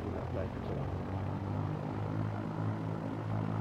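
Twin-engine Piper Twin Comanche PA30 in X-Plane 11 running at full RPM and full mixture, a steady, loud propeller drone with low harmonic hum that holds constant throughout.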